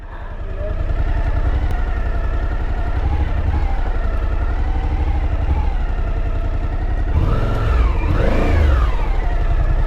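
A BMW M1000RR motorcycle engine runs loud and close, holding a high revving drone that climbs and swings in pitch near the end, with no voices over it.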